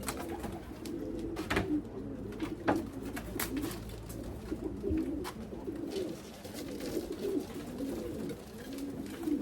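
Racing pigeons coo steadily in a low, throaty murmur, several birds overlapping, with occasional sharp knocks and rustles nearby.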